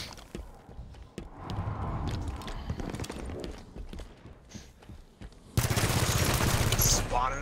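Rapid bursts of gunfire crackle in Halo 5 multiplayer, starting sparse and growing into a loud, dense volley toward the end, with a voice shouting over the action.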